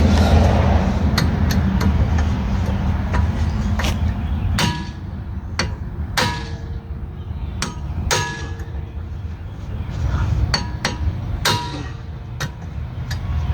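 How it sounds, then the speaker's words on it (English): Sharp metallic clangs ring out one at a time at irregular intervals, hammer blows striking a manual impact Phillips screwdriver on a rusty screw of a 2013 Honda CR-V's rear wheel bearing, loud and close with a brief ring after each. "We're going to try to hit it with my impact Phillips."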